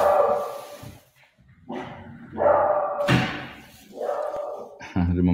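A small dog lets out several short, yappy barks in quick bursts, mixed with thumps and a voice in the room.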